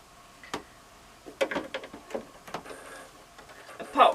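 A Necchi Artisan 30 S sewing machine stitches in short, uneven runs of quiet ticking and clicking, close by, with soft pauses between bursts.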